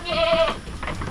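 A farm goat lets out a single short bleat, fairly close, followed by faint background noise.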